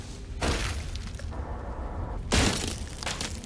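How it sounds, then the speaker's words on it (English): Glass shattering in the video game DmC: Devil May Cry, two loud bursts of breaking and crashing a couple of seconds apart over a dense background of game noise. "Holy crap, is that glass?"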